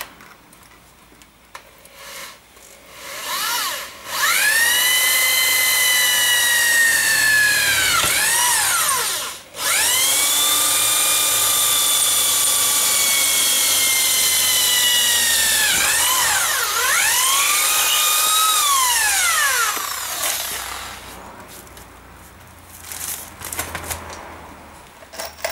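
A power drill bores two holes in metal for a motorbike scissor jack, its motor whining loudly up to speed in two long, close bursts with pitch dips as the bit bites, separated by a short pause, with no talking.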